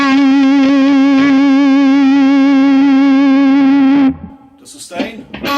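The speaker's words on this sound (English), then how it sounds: "And this is the Fuzz DS with zero drive." A guitar run through the Kemper Profiling Amp's Fuzz DS effect with the drive at zero rings out as one loud, sustained, thick note for about four seconds, then stops and speech follows.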